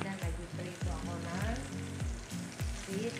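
Tilapia fries in a pan in a home kitchen with a steady, crackling sizzle, and spatters and stirring scrapes repeat at a loose rhythm.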